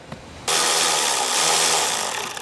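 A power tool suddenly starts with a loud, steady high-pitched whine and keeps running unbroken for about two seconds, close by.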